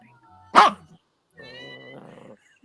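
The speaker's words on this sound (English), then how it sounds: "hear a dog." A single loud dog bark rings out near, followed by a brief softer whine or yip after a pause.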